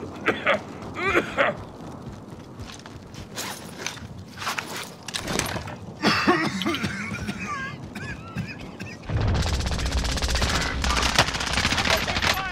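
Bursts of automatic rifle fire and single gunshots in Call of Duty Modern Warfare, loud and close, interspersed with footsteps and game noise, ending in a sustained barrage while players talk.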